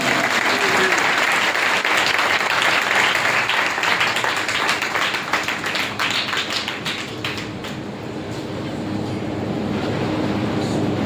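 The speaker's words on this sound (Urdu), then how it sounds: "آئے تالی بجائیں زور سے یسوع کے لیے." Loud congregation clapping in praise at a church teaching service. It is fast and energetic, with sharp rhythmic claps close up that stay strong for about eleven seconds before easing slightly.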